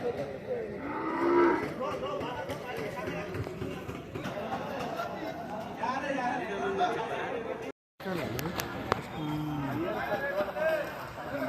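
Buffaloes moo repeatedly at a busy Sunday buffalo market in Erragadda, loud nearby lowing calls amid crowd chatter and people talking, with a brief gap partway through.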